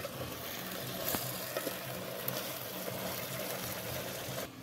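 Duck meat cooking in a clay pot on a stove, a steady soft sizzle and bubbling hiss with faint occasional clinks, close and quiet, no talking.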